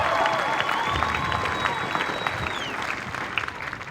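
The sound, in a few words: audience applause at military graduation ceremony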